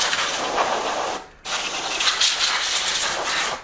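Compressed air is blown in a steady hiss over a dirty, rain-exposed Nintendo NES console, with one brief pause between two bursts.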